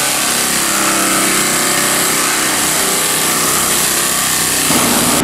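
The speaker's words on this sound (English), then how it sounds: "We're going to take the straight line sander, go ahead and get all this best we can." A straight line sander works a fiberglass hood scoop on a 1995 Mustang convertible with a loud, continuous grinding drone, close and unbroken, its tone shifting slightly near the end.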